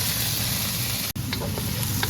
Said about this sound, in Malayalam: പച്ചമുളക് പിന്നെ ഈ തേങ്ങ പീസായിട്ട് വെച്ചിരിക്കുന്ന ഗാർലിക് ആൻഡ് ജിഞ്ചർ ഇതെല്ലാം കൂടെ ഒരുമിച്ച് ഈ തിളച്ച് എണ്ണൻ്റെ ഇടാം